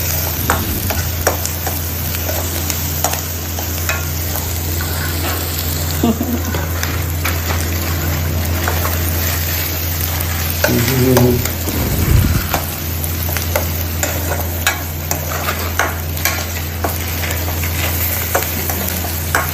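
Maggi noodles and onions roast in a pan with a steady sizzle and occasional stirring scrapes over a constant low hum, with voices talking at times in the background.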